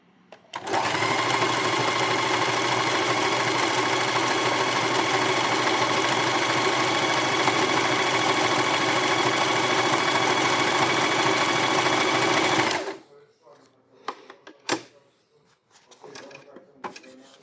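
A Janome SE 7522 sewing machine runs a triple straight stitch in one loud, steady, close whir for about twelve seconds, then stops, leaving faint handling clicks and a sharp tap.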